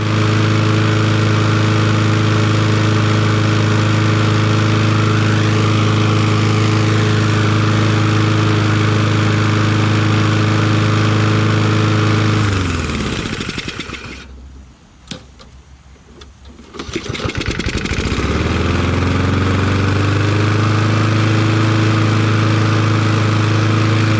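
Kohler XT675 engine on a self-propelled Toro Recycler lawn mower runs at a loud, steady idle, dies down to near silence around the middle, then restarts and settles back into its even drone.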